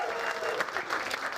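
Comedy show crowd in Nashville clapping and cheering for the announcer, a brief burst of dense applause with whoops rising over it.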